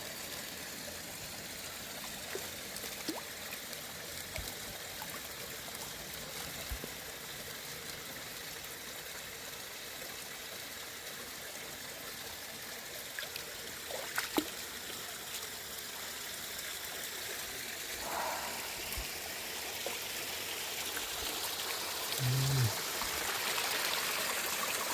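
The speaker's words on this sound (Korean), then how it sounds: "이런 조그만 폭포가 있어요. 폭포라고 하긴 좀 그렇나요? 계곡물." A small waterfall and mountain valley stream on Chilgapsan in Cheongyang flows with a steady, soft rushing wash that stays even throughout, with a faint murmur near the end.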